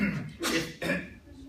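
A sneeze from someone in a trigonometry review lecture, heard as two sharp, breathy bursts in quick succession at moderate distance, with low room murmur and faint background voice around them.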